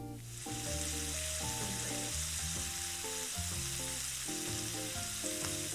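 Cajun-seasoned shrimp sizzling in butter and oil in a skillet, a steady bright hiss running under loud background music throughout.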